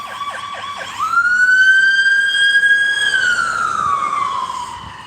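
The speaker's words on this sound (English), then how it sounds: "Oh, that's a siren." A loud wailing siren rises after a few quick yelps, holds a long steady tone, then slowly falls, close by and with no voices.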